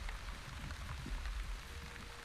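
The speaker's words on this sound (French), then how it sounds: "Donc là, il y a de la pluie" Steady rain patters in The Wandering Village video game, a soft continuous hiss of drops on surfaces with faint low rumble beneath, even and quiet throughout.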